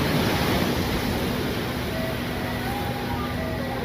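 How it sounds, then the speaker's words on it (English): Ocean waves in a steady continuous wash of surf, a dense even roar close by with a few faint bird calls and no talking. "But just take a moment and appreciate the sound of the ocean's music."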